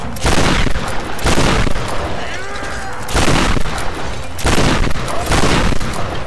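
Heavy gunfire in the Tomb Raider (2013) video game, repeated booming bursts of shots in clusters about a second apart, loud and close, with a shouting voice between volleys.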